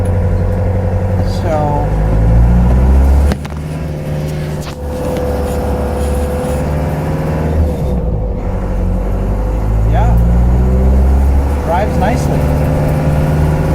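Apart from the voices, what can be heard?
1989 Land Rover Defender Perentie 110 driving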